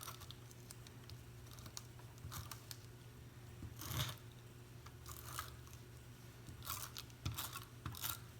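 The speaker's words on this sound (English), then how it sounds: "Cut off the extra ribbon." Scissors trimming the excess ribbon off a handmade foiled card, heard close and faint: a few sharp snips and crisp crunches spread over several seconds, with quiet handling noises between them.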